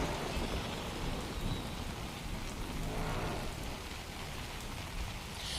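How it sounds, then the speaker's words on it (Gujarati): Heavy rain pours down in Ahmedabad, a dense, steady roar of drops hitting surfaces, continuous and fairly faint, with no voices. "સતત 4 કલાકથી વરસાદ વરસી રહ્યો છે"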